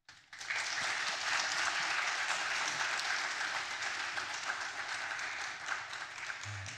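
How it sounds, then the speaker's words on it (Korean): A church audience at an evangelistic rally gives steady, sustained applause welcoming the pastor, a dense even wash of clapping from a crowd heard at a moderate distance. "우리 목사님 나오실 때 크게 환영의 박수로 맞이하겠습니다"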